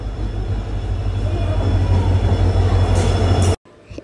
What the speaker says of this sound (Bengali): ফাইনালি 1 ঘন্টা ওয়েট করার পর আমাদের ট্রেন আসলো